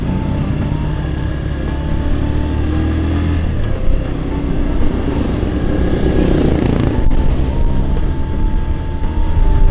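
A motorcycle engine still in its break-in period drones steadily throughout as the bike rides along, loud and close, with a slight rise in revs partway through.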